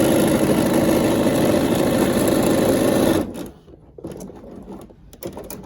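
A sewing machine stitches quilt fabric for a caregiver quilt in a loud, steady run for about three seconds, then stops, leaving only faint handling sounds and quiet bumps.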